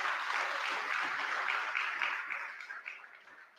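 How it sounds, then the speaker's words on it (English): Applause from an audience at a political party's post-budget public meeting, a dense steady clatter of clapping that holds loud and then slowly thins and fades over a few seconds, with no voices over it. "And I want you all to give us a round of applause for that."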